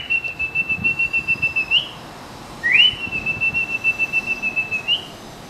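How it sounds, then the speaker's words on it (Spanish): A loud, steady whistle close by, a long trilling pulsed call, a rising swoop, then another long trilled phrase, used as a herding call for cattle, a Venezuelan llano work song. "Entonces uno comienza a silbar los así."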